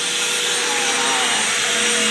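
A household vacuum cleaner runs steadily and close by, a constant broadband whoosh with a faint tonal whine, with no talking over it.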